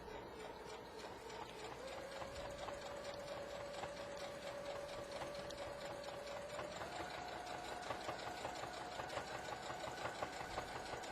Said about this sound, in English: adjust my needle positions, and then top stitch on top of the serge seam.